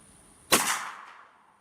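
A single .44 Magnum shot from a rifle with an 18-inch barrel fires outdoors, a sharp loud crack followed by a decaying echo trailing off over about a second.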